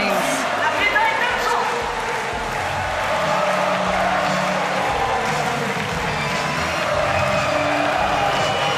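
Home crowd at the Paris Paralympic velodrome roars steadily after a French gold in the men's C5 4000m individual pursuit, a continuous broad cheer with scattered whoops, partly under a commentator's voice.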